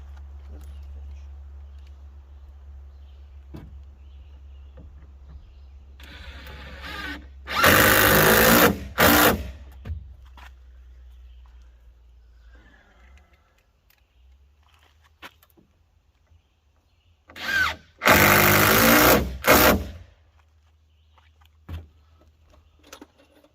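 A power drill drives 2.5 screws into a wooden 2x4 rake on a roadside stand, in two loud bursts of whirring a few seconds long, separated by quieter handling noises and some talk.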